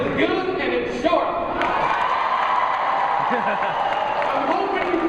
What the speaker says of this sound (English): I'm hoping you clap because you want it to be good